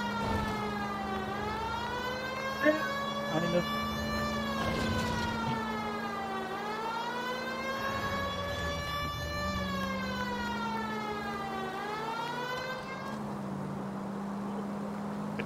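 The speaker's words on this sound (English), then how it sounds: "turn off the siren because it's getting annoying" A wailing police siren in the video game L.A. Noire, rising and falling in slow sweeps over a low steady engine drone, loud and continuous.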